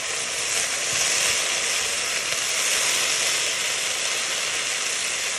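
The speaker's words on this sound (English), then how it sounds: "Sizzling." Cabbage cooking in a pan with plenty of added water hisses and sizzles loudly and steadily throughout, close by, with the steam giving a dense, unbroken rushing sound.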